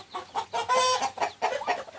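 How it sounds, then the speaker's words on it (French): A young rooster, raised to become a fighting cock in a village in Isan, Thailand, gives a short burst of loud, close clucks with one longer crowing call in the middle. "Ici, c'est un coq."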